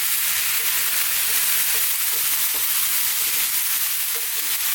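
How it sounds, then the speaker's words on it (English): Mixed vegetables for an Indian curry fry on medium-high heat, giving a steady, close hiss with soft crackles and occasional stirring clinks throughout, no voices. "We want to just fry these around for a few minutes."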